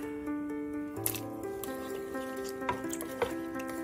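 Garlic and ginger drop into a pan of melting fat while cooking pickled bitter melon, giving a soft, steady sizzle with faint squishy stirring and a few small clicks, and no voices.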